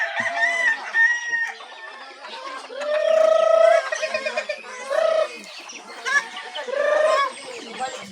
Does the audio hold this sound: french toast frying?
no